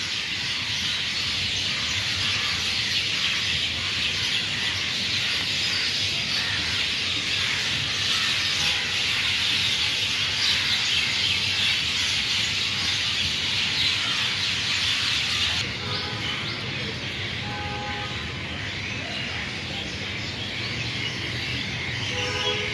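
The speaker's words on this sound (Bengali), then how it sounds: "এখানে প্রচুর পাখি আছে কিচির মিচির ডাকি করতেছে" Many birds chirp and twitter together at a lake park in Dhanmondi, Dhaka, in the late afternoon, a dense, steady chorus of high calls filling the scene with no talking.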